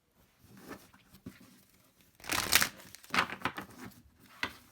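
Tarot cards riffle and slide in a quiet shuffle, soft papery bursts building to a denser flurry midway, then trailing off into a few light taps.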